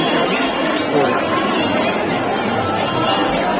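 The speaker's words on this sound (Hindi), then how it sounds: "दर्शन की बात कर लें तो बहुत ज्यादा भीड़ है।" A dense crowd of pilgrims gathered at Lohargal for Hariyali Amavasya, a steady loud babble of many voices with faint clinks, continuous throughout.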